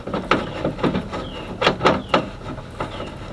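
Screws are backed out of an interior door panel on an Oldsmobile Cutlass Custom, giving close, irregular clicks and ratcheting taps with faint thin squeaks between them.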